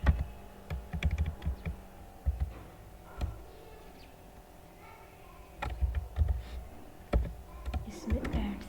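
Keys clatter on a computer keyboard while code is being typed, coming in irregular bursts of close clicks with quiet pauses between them and no speech.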